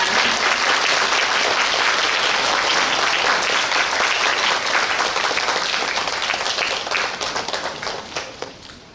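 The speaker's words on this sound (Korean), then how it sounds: "큰 박수로 환영해 주시기 바랍니다." Sustained applause from a large crowd welcoming a novelist's guest lecture in a city hall main conference room, dense and steady, tapering off into scattered claps near the end.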